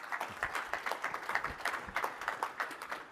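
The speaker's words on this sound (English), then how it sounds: "I'd love you all to give a big round of applause for Stu and Marcus" Quiet applause from a conference audience at JNUC 2024 as presenters are welcomed to a session on Jamf Cloud migration, a steady patter of many claps heard at a distance.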